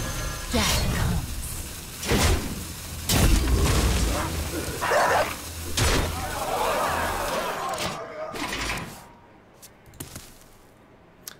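Hunter card in the video game Hearthstone releasing a pack of dogs, with several loud barks and yips bursting out in quick succession amid game thuds, fading to quieter effects near the end.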